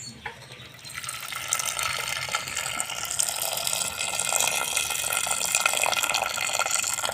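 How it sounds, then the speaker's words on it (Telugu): Water from a pot of cooked dal poured into another bowl in a home kitchen, a steady close splashing stream that starts after a brief pause and keeps running, growing slightly fuller, with no talking. "అందులో ఉన్న వాటర్ ఇంకొక గిన్నెలోకి పోయేసుకొని"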